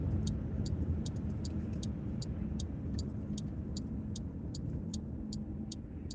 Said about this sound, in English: Driving a Chevrolet.